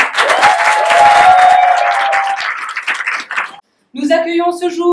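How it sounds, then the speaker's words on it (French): An audience of hackathon participants bursts into loud, close applause after 36 hours of work together. The clapping lasts about three and a half seconds and breaks off into a short silence, then a voice starts speaking. "un énorme applaudissement à chacun d'entre vous"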